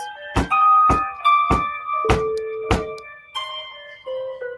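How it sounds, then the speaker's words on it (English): Five heavy knocking thuds struck at a steady, deliberate pace, each loud and close with a brief resonant ring, followed by a fainter sixth knock. "the room shook with the sound of 5 heavy thuds"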